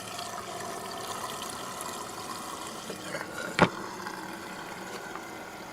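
Filtered water, passed through 0.5 and 0.1 micron filters, runs into a gravity feed tank with a soft, steady trickle. One sharp knock cuts through partway.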